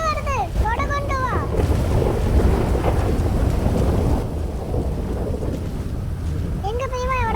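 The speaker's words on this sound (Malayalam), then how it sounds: "മഴ വരുത് കൊട കൊണ്ടുവാ." A thunderstorm brings heavy rain, with a steady roar of downpour and low rumbling thunder running throughout. Wavering voices rise briefly at the start and the end.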